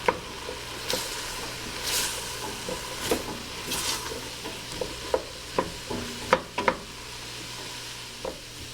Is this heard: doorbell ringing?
no